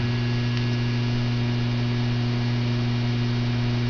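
A Boyce 101 HHO electrolysis cell runs at 4 amps beside a 2-liter container, giving a steady, loud electrical hum with strong low tones. It holds constant and unbroken throughout, with no voices.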